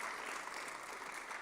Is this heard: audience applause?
yes